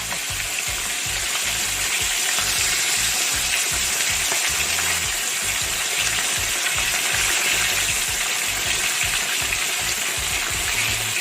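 Whole squid deep-fries in hot oil with a dense, steady crackling sizzle, loud and close, that runs without pause and without voices.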